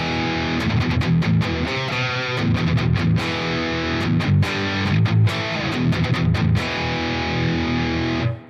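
Electric guitar played through a Headrush Prime with the M2 lead amp model, drenched in reverb and delay; continuous distorted riffing with chugging palm-muted hits, loud and alone until it cuts off at the end.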